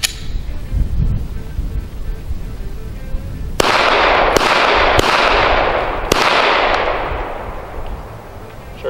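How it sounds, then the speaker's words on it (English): Four sharp, loud unsuppressed shots from a Glock 17 pistol at a trade-show range ring out at uneven intervals, each with a brief echoing tail after a quieter lead-in. "I'm gonna switch it out for a factory Glock 17 one after that. Just plink a little, show that it runs,"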